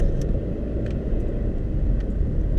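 A car drives through a small, snowy town, its steady low road rumble and engine noise continuous and fairly loud throughout with no talking.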